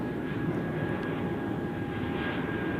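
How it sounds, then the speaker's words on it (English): An Airbus A220-300 jet departs Zurich Airport from runway 32 in the morning, a steady, sustained jet engine roar with a faint high whine, heard at a distance with no voices. "we just see the last departures out of runway 32 today in the morning. This is an A220-300"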